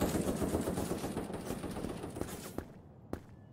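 Rapid automatic gunfire in the online shooter Krunker, a dense stream of close shots that thins out toward the end, ending with a few isolated reports.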